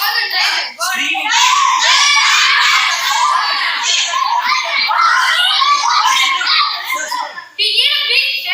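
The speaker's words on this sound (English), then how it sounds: "Screaming." Several people, including children's voices, shriek loudly and continuously in a haunted mansion skit at an evening session, with giggles and shouting mixed into a sustained, high-pitched din.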